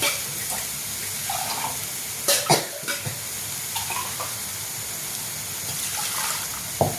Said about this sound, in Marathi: पाणी टाकते मी याच्यामध्ये